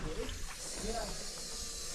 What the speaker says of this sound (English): It's an air mattress.